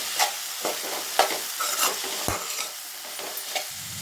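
Ground peanut and chili powder get stirred into bottle gourd frying in a pan for suraikai poriyal: soft sizzling under a series of quiet scrapes and taps from a spoon, with no voices.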